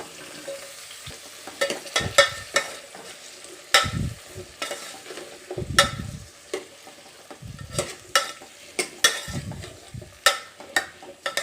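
Drumstick and brinjal pieces frying in a pan for sambar: a soft sizzle with repeated sharp scrapes and clatters of stirring, close by and irregular, with no talk.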